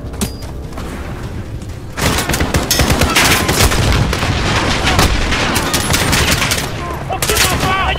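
Heavy gunfire in a Call of Duty Modern Warfare battle, aimed at a machine gun: dense, loud bursts of automatic fire and booming shots layered over each other, starting lighter and erupting into continuous fusillade after a couple of seconds.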